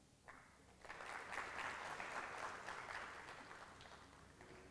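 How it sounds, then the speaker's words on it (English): An audience applauds at an evening meet-and-greet event in Dallas honoring an Indian state industries minister. The clapping is distant, swells after a brief start, holds for a few seconds, then tapers off, faint in a large room. "Let's acknowledge their presence with a round of applause"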